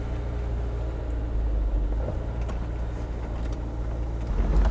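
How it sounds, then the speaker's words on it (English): Honda S2000 with a new exhaust driving along, a low steady engine rumble heard from inside the fairly quiet cabin, with no talking. "you can really hear the engine a lot more than just the exhaust note"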